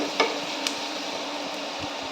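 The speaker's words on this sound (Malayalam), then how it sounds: "നമുക്കതിലേക്ക് അല്പം എണ്ണ ഒഴിച്ച് ചൂടാകുമ്പോൾ സവാള ഇട്ട് വഴറ്റും." Sliced onions sautéing in hot oil for a prawn biryani, a steady soft sizzle with a couple of sharp spoon clinks against the pan near the start.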